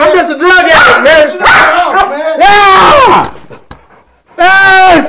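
A dog barks and yelps loudly and close during protection bite work inside a house, with rapid bursts, growling whines and a short pause before another outburst, while someone shouts over it.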